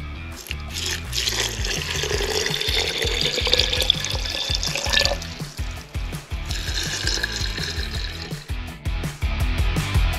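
Water poured over crushed and ground Eocene rock samples from the Alès Basin, gurgling and splashing in uneven bursts with trickling drips, close and fairly loud, briefly stopping midway before pouring resumes.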